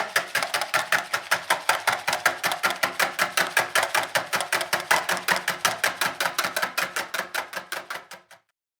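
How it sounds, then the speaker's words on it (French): Whisk beating homemade Marseille soap laundry detergent, soap dissolved in hot water: a fast, even run of about forty sharp rhythmic strokes close up that slows slightly and stops abruptly near the end. "je prends le fouet et je vais mélanger jusqu'à ce que ça fasse un mélange assez homogène"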